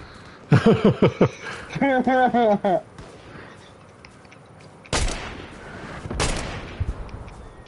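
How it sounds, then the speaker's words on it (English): Gunfire in the video game Fortnite: a few sharp, loud broadband bursts in the second half, following a stretch of voices talking and laughing. "Oh god, they're shooting me, Javi."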